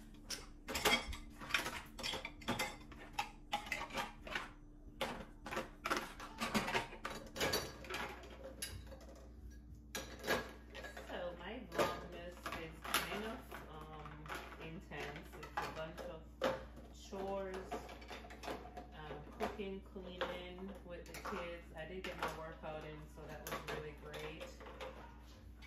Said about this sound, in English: while I do the dishes real quick